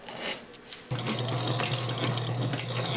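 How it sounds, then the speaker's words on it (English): Sewing machine stitching a wet-molded leather holster with black heavy-duty nylon thread, starting after a short pause into a steady rapid mechanical whir and needle clatter, close and moderately quiet. "I used a black heavy-duty nylon thread and the machine to stitch the holster all the way from the bottom to most of the way up the top."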